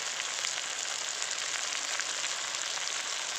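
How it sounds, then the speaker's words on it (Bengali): Chicken with salt, chili powder and green chili sautéed in a pan, a steady close hiss of frying, even and unbroken, alone with no talk. "এবার ভালো করে কষিয়ে নেব"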